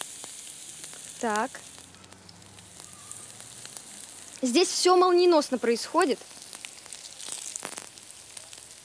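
Mini potato pancakes (draniki) sizzle and crackle steadily in a hot frying pan, a constant hiss with a brief louder spatter, while someone talks over the cooking.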